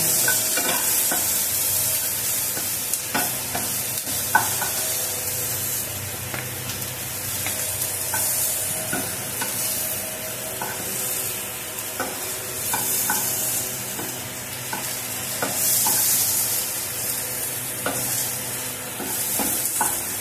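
Capsicum and onion fry in butter over a high flame, giving a loud, continuous sizzle with occasional stirring scrapes and clinks throughout, and no voices.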